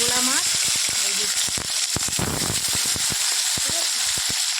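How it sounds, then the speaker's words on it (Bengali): Small fish hit hot oil in a pan and set off a loud, crackling sizzle with dense popping bursts that holds steady throughout. A voice speaks briefly under the frying. "তেল গরম হয়ে গেছে, এবার মাছগুলো দিয়ে দিই। ছোট্ট ছোট্ট গোলা মাছ।"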